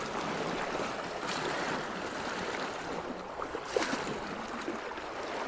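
Steady broadband rush of river water flowing in Yosemite, close and unbroken, with faint splashy swells and no voices.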